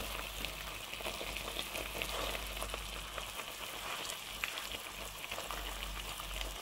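Fish braised with tomato and lemongrass simmering in a pan, a steady soft sizzle and bubbling, low and continuous with no voices.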